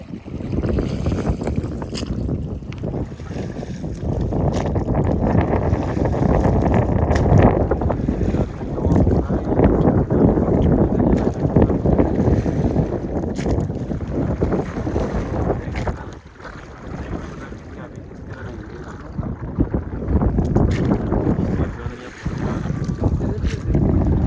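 A boat travelling on the Amu Darya river in Afghanistan during a fishing trip, a close, continuous rumbling drone with heavy wind buffeting the microphone and a short dip partway through.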